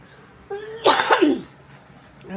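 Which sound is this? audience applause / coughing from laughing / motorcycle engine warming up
coughing from laughing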